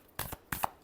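Tarot cards are shuffled in three quick, soft flicks spaced evenly in under a second, close and quiet with no voices.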